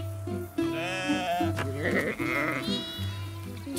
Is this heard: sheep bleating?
yes